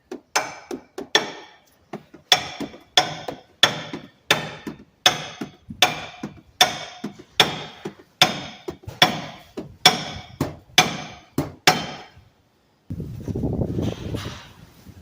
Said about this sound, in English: the hammer is going to help us here